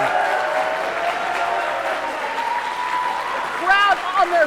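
An arena crowd in Chicago at a Women's Wrestling Army main event roars and applauds in a steady dense wash, with a commentator's voice and a louder burst near the end.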